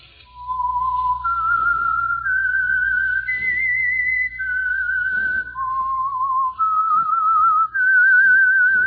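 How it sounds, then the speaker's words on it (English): A lone human whistles a slow, clear melody as the theme for The Whistler radio program sponsored by Signal Oil, sustained notes stepping up and down with a slight warble over a faint low hum. "That whistle is your signal for the Signal Oil Program, The Whistler."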